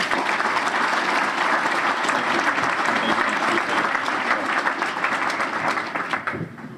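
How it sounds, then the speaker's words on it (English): Sustained, loud round of applause from a crowd at a Boys & Girls Club St. Patrick's Day luncheon in South Boston, greeting a guest from Milton, Massachusetts; dense clapping throughout that eases slightly at the end. "a big round of applause for Mr. Corey Rodriguez"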